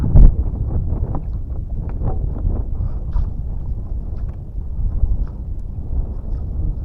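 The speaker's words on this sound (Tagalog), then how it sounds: "Medyo lumalakas na hangin sila." Strong gusting wind ahead of approaching rain buffets the microphone in low, rumbling bursts that continue steadily throughout.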